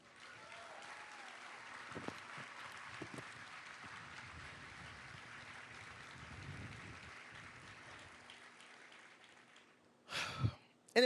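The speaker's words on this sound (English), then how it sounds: "please join me right now in applauding this worthy partnership" An audience at an unveiling ceremony applauds, a soft, distant patter of many hands clapping that fades gradually, followed by a few louder close bumps and rustles at the end.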